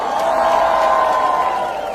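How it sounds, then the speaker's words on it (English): A concert audience at Goa Cashew Fest 2025 roars with sustained cheering and clapping, a dense, loud crowd wash holding steady for the full two seconds. "So can we have a huge round of applause for all of you tonight?"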